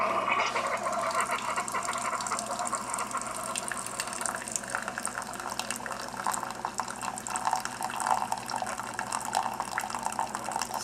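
A Keurig coffee machine quietly dispenses water, a steady stream of liquid trickling and filling, with a soft gurgling hiss that continues evenly throughout.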